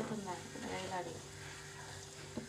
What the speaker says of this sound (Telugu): మూత తీసింది చూడండి, మరిగిపోతుంది.